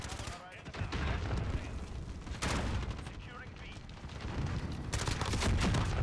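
Gunfire from a Modern Warfare multiplayer match in domination mode rattles in bursts and repeated shots, mixed with game effects, while a player talks over it.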